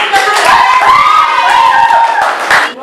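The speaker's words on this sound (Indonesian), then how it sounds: "Tepuk tangan." Children in a biology classroom clap together while calling and cheering loudly, their excited voices dominating over quick, close claps.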